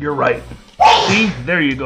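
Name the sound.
sneeze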